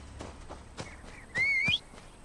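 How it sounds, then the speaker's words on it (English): Whistle call for a camel in the video game Assassin's Creed Origins, a single sharp rising whistle lasting about half a second, heard between soft footsteps. "that was meant to be me whistling for the camel"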